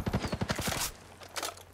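An MK48 Compact machine gun in Ghost Recon Breakpoint fires a rapid full-auto burst of loud, closely spaced shots for almost a second, followed after a short pause by a fainter burst.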